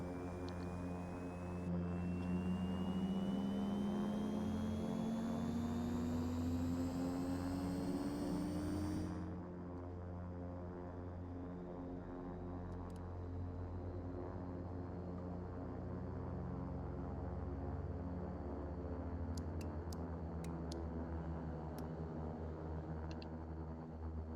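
A Beechcraft King Air 350 turboprop engine starts up in a flight simulator game, with a steady whine climbing in pitch over several seconds, then settling into an even, continuous drone with a faint background hum.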